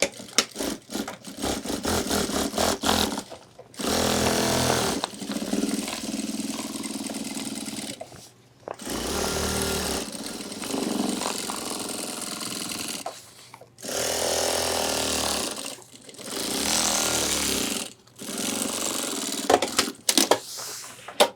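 A sewing machine running a second reinforcing stitch along ultralight backpack panels, loud mechanical whirring in several bursts of a few seconds each, separated by short pauses.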